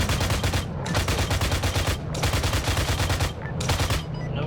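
Sustained bursts of rapid automatic gunfire aimed at BTR-40 armored vehicles in a military video game, with loud, dense volleys broken by brief pauses.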